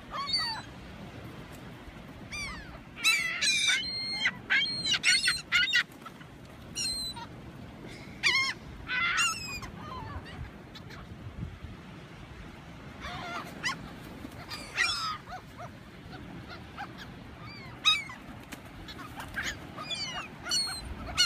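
Seagulls call in bursts of sharp, repeated squawks that come and go over a steady low background rumble, some close and loud, others farther off.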